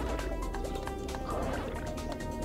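Swimming through water in the video game Pac-Man World 2, a continuous liquid sloshing and gurgling wash with soft repeated splashy pulses, steady and fairly loud throughout.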